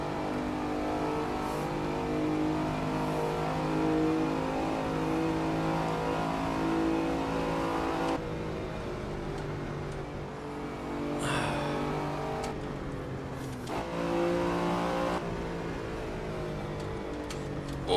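A Lamborghini Countach's V12 engine in the racing game Assetto Corsa, driven on the Nordschleife, holds a loud, steady, throaty drone, with abrupt drops in pitch at gear changes and renewed rising pulls.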